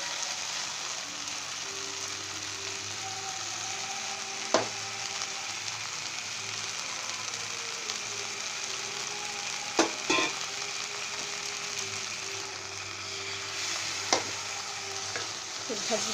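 Tomato masala frying and being stirred for an Odia cabbage curry, bandha kobi tarakari: a soft continuous sizzle with a few sharp spatula knocks against the pan, close and steady with no talking.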